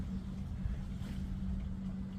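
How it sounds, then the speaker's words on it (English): A boat passes on nearby water, heard faintly as a low, steady rumbling drone beneath quiet ambient outdoor noise, with no voices. "Can you hear the boat?"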